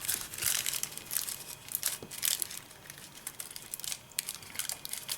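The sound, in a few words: paper being folded and pinched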